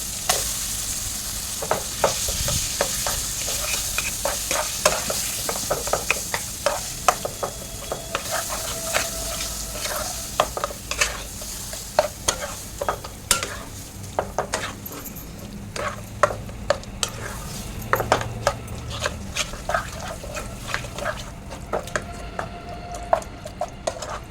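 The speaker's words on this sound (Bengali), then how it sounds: "এবারে কচুর শাকটা দিয়ে দেবো।" Taro leaves are stirred in a hot pan with turmeric and salt, giving a loud continuous sizzle broken by frequent clicks and scrapes of the spatula, close by with no talking.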